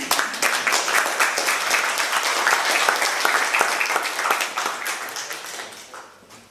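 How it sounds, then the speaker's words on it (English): An audience at a photography exhibit talk breaks into sustained applause, a dense, even wash of many hands clapping close by that gradually thins and fades out toward the end. "Can we please have a round of applause for them?"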